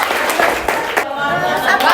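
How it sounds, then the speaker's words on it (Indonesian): A classroom of students claps for a group, a dense patter of many hands filling the room while voices talk over it. "Tepuk tangan buat kelompok"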